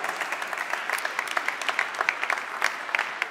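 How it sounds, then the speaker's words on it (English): A press-conference audience claps steadily for a few seconds, with many hands at moderate loudness and individual claps popping out of the even patter. "a big round of applause for that"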